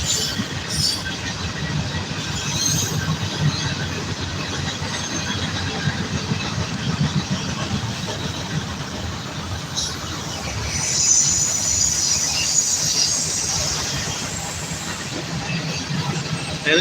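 A long train rumbles steadily past, wheels clattering with occasional high squeals, the roar swelling slightly midway and continuing throughout.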